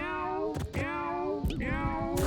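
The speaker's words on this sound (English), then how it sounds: "There's a nice harmony meowing going on now." Cats in the video game Mewgenics meow in overlapping drawn-out, sliding calls, one long wavering meow broken by sharp clicks and thumps, then a second meow, loud and close over a steady game background.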